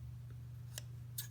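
Milwaukee scissors, model 48-22-4041, open and close twice in a quiet room, two faint, crisp metallic snips about half a second apart over a low steady hum.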